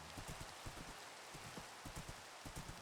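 Rain falls in the video game Minecraft, a steady hissing downpour with dense, irregular drip and patter taps close up, fairly quiet and uninterrupted, with no talk.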